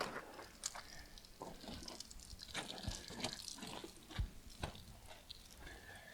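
Water splashing and running during a car wash with ceramic car wash soap, close irregular splashes and drips over a constant wet wash, with a few sharper spatters standing out, and no voices.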